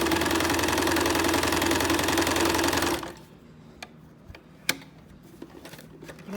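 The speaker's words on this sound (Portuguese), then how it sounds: "Agora eu vou costurar" A sewing machine runs in a fast, steady, loud stitching burst for about three seconds while sewing a pocket on a fabric bag, then stops, leaving quiet clicks and handling noises.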